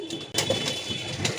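Racing pigeons coo close by in a loft, with soft throaty calls repeating over a short stretch against a faint steady hum.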